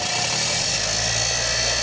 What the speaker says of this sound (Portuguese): Nós vamos fazer no esmeril.